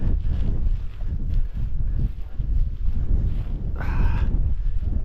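Strong wind buffets the microphone high on a Scottish mountain ridge, a steady loud roar and rumble that fills the whole stretch with gusty fluctuations and no talk.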